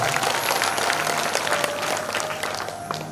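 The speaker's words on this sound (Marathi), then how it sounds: "त्यांच्याकरता पंक्तीदारांकरता टाळ्या वाजवायच्या" A seated audience at a Navratri festival Bhagavat discourse claps together, a dense, steady burst of applause filling the space close by, with no talk over it.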